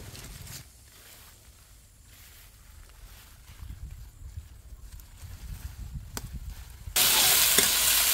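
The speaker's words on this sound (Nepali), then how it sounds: "मेथी प्याज बेसार लगाएर त्यसमा आलु भुट्ने एकछिन एक दुई मिनट" Diced potatoes fry with fenugreek seeds, onion and turmeric in a Nepali village kitchen. A soft, low sizzle carries occasional stirring scrapes and then swells into a louder, sharper hiss near the end.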